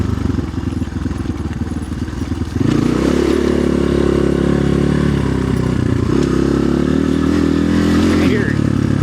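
Chinese dual-sport dirt bike with a loose chain, engine idling roughly then surging loudly as the throttle opens at about 2.5 s, holding a strong, steady roar with some clatter through the rest.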